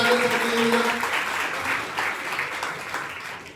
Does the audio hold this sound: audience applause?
yes